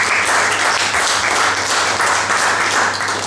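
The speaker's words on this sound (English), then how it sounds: "a big round of applause for Bridg." An audience claps steadily, a dense wash of applause that stays loud and even throughout, with no voices over it.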